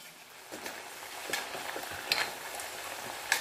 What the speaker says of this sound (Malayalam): നല്ല ചൂടായ എണ്ണയിൽ ഇട്ട് കൊടുത്തിട്ട് തിരിച്ചു മറിച്ചിട്ടിട്ട് ഫ്രൈ ആക്കി എടുത്താൽ മതി.